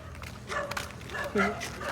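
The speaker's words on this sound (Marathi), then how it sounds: "अरे किती कुत्रे भुगतान." Several dogs bark and yip at night, short faint calls mixed in among people talking close by.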